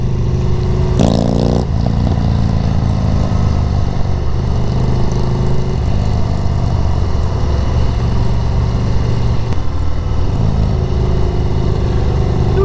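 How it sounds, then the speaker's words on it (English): Exhaust of a 2019 Harley-Davidson FXDR motorcycle on a test ride, a loud continuous rumbling drone heard up close with a brief rising rev near the start and wind noise throughout. "that exhaust sounds good"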